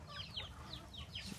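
A young rooster gives a quick series of short, soft clucks, a few chirpy calls in close succession over low background noise.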